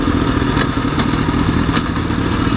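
A Kawasaki ZX6R sport motorcycle engine revs hard and steady during wheelie practice, loud and close with a constant roar and a few light clatters.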